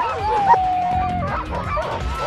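Sled dogs in a harnessed team yelp, whimper and howl together as the sled pulls away, a rising wail running for about a second over a close chorus of yips, with people talking nearby.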